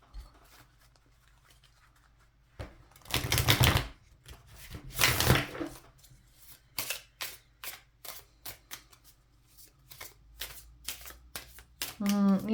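Tarot cards are shuffled in quick riffling bursts, followed by a run of crisp, rhythmic taps and snaps close up.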